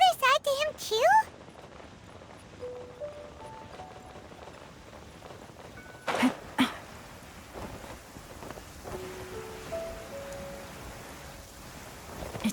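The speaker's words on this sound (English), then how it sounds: "It's raining." Rain falls steadily in the Genshin Impact game world near the Blackcliff Forge, a soft continuous hiss with occasional louder thumps and thunder-like rumbles, while characters speak over it.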